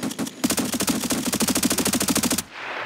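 Rapid automatic gunfire in Escape From Tarkov, a sustained burst of evenly spaced shots lasting about two seconds, loud and close, with no talk over it.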